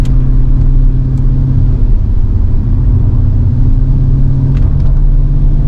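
A BMW E38 740i L V8 accelerating hard, its loud deep engine note rising steadily with a strong low rumble, close and continuous with no talk.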